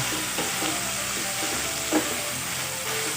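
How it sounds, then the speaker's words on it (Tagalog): Sirloin beef strips sauté in oil in a pan for pepper steak, a steady close sizzle with occasional stirring clatter and soft knocks, no talking over it. "ngayon, igigisa lang natin to ng mabuti"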